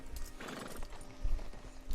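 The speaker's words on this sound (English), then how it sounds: "And all our horses are here." Horses in the video game Red Dead Redemption 2 whinny and snort close by while hooves clop on the ground, with no talking.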